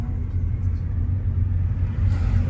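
A Tamil Nadu bus on a hill road between Munnar and Theni rumbles closer with a deep, steady engine drone that swells slightly toward the end, heavy and fairly near.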